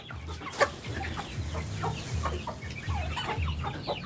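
Native chickens cluck busily at feeding time, a close, continuous chorus of short clucks and chatter from several birds.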